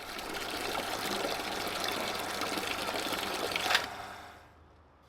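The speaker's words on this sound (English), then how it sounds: "I got straight to it filling my buckets up first" Water runs steadily into a bucket for a car wash, a close, continuous splashing gush that cuts off near the end, leaving near silence before a faint click.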